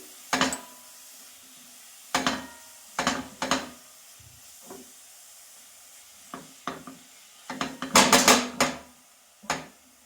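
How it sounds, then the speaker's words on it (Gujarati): Grated carrots for carrot kheer stirred in a pan, giving a run of sharp scraping and clattering bursts against a soft sizzle, some strokes brief and isolated, others bunched into a loud cluster near the end. "અને હવે ગાજરને મસ્ત રીતે હલાવી લઈશું"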